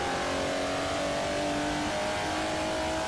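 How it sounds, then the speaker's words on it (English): A Jaguar racing car engine in Forza Motorsport 4 roars loudly and continuously, its pitch shifting as it revs. "a hell of an engine noise though"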